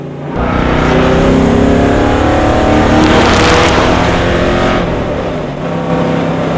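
A loud 1970 Ford Mustang Mach 1 engine revving hard and steadily to about 5,500 rpm, its roar rising to a peak midway, then settling into a sustained growl.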